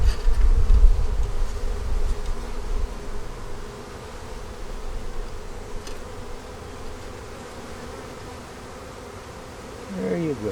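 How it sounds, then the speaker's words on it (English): Honey bees buzzing steadily at the front entrance of a hive, a dense close hum that grows softer midway, with light rustling and a brief louder burst near the end. "We're going to let the bees walk up there a little bit first."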